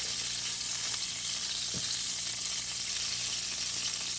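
Steaks sizzle steadily in hot beef tallow, a constant close hiss of frying fat with one brief low thump partway through and no talking.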